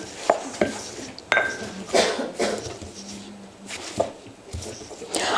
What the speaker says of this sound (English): using a mortar and pestle, you're really just, going around the bowl, crushing the herb against the bottom of this